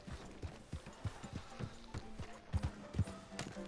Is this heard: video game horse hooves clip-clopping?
yes